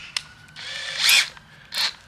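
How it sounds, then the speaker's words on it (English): A cordless drill fitted with a hex-shank bulb planting auger whirs in two short bursts, the first longer and rising, the second brief, with a small click before them, close and loud with no talk. "It's just got a hex shank on it, so you can put it into a normal drill."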